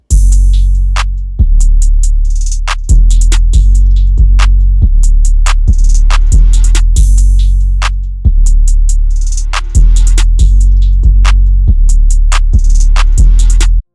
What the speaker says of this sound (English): we have a 808 and a kick